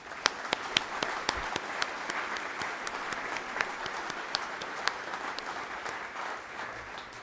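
An audience at a college summer graduation ceremony applauds steadily, with dense, even clapping from a large crowd and a few sharper individual claps standing out.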